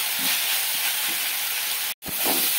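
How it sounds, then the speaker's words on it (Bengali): Water spinach frying with poppy seeds over medium-high flame, a continuous loud hiss and sizzle with a brief cutout near the end, no voices. "মিডিয়াম টু হাই ফ্লেমে রেখে 1 মিনিট বা 2 মিনিট এইভাবে ভাজা ভাজা করে নেব পোস্তর সঙ্গে এই শাকটাকে"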